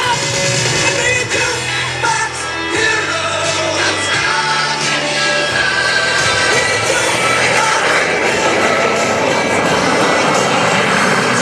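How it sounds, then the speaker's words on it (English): A Lockheed T-33 jet's Allison engine goes to full throttle and accelerates away at an air show, a loud, steady roar that swells and holds throughout. "The sound of that Allison as he shoves the throttle in his left hand all the way to the stops, accelerating away."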